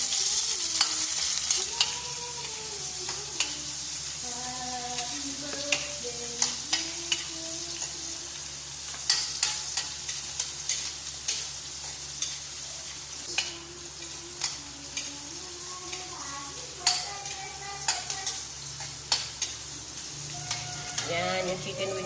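Ginger and onion fry in a pan for chicken tinola, a continuous close sizzle broken by frequent clinks and scrapes of a utensil stirring against the pan.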